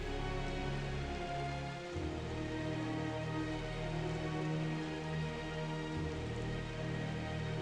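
Gentle rain falls on trees in a steady, dense, even wash of sound, soft and constant throughout with no distinct drops standing out and no voices.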